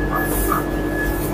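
The Howrah–Puri Vande Bharat Express (22895) runs along with a steady rumbling hum heard from inside the carriage, an even mechanical drone with a faint whine.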